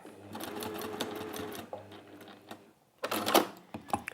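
A sewing machine stitches fabric for a crown-shaped pincushion. It runs in a steady, rapid patter, pauses briefly, then starts again in a louder burst.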